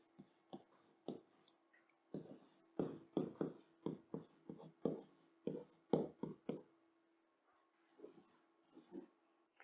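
Pen or marker strokes scratching out a velocity equation by hand, a quiet run of short taps and scrapes in uneven bursts with brief pauses, close and faint.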